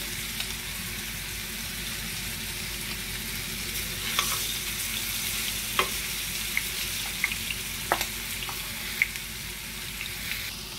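Ingredients for a Sri Lankan chicken devil sizzle in hot oil, a dense, even hiss with a few light scraping clicks from stirring near the end.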